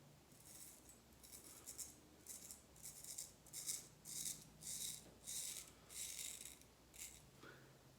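A George Woestenholm straight razor scrapes through three days of stubble in a quiet room, giving close, rhythmic rasping strokes, each a short gritty scratch with brief pauses between.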